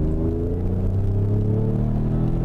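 Ford Explorer Sport with a Borla exhaust pulling through upshifts at highway speed, a steady loud low engine rumble and drone with slight throttle blips, no voices.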